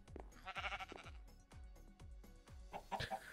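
Chickens in a hardcore Oneblock Minecraft game cluck in quick repeated bursts, a steady rhythm of close clucks and bleat-like calls over faint background game sound.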